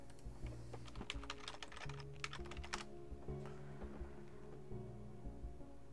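Fingers typing a comment on a computer keyboard, a quick close run of clicking keystrokes in short bursts over a faint low hum, with no talking.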